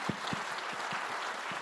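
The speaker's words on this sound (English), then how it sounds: "I will invite you to give me a round of applause to our panelists." A summit audience at a global financial leaders' investment forum applauds the panelists on stage, an even spread of many hands clapping at moderate volume, with a few heavier thumps.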